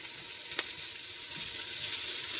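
Tomatoes sizzle as they go into sautéing onions for a vegetable pulao: a steady soft hiss with one sharp click early on, quiet and close, and nobody speaking.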